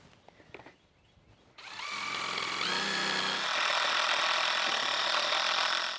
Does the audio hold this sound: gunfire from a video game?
no